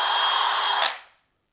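A Lidl cordless drill from its record-setting range whirs loudly and steadily, then its anti-kickback cutoff shuts it down and the motor spins down to silence within a second.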